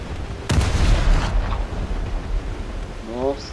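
A single loud, booming naval gun shot in War Thunder erupts and rolls away into a windy, wave-like rumble, followed by a brief voice near the end.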